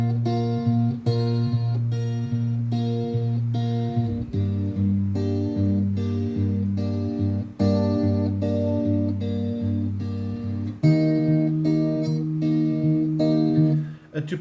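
Electric guitar picking a steady arpeggiated pattern of clean plucked notes, with chord changes every few seconds, close and clear with no talking.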